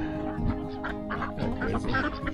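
Ducks quack in a busy, overlapping cluster nearby as they eat lettuce, with steady background noise beneath the calls.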